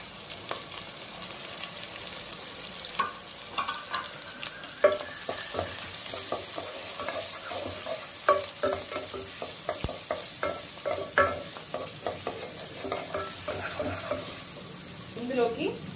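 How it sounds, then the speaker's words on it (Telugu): Chopped onions frying in a pan for instant flavored rice, a steady sizzle broken by frequent spatula scrapes and clinks as they are stirred. "ఇందులోకి ముందుగా కట్ చేసి పెట్టుకున్న ఆనియన్స్ ని వేసుకుందాం"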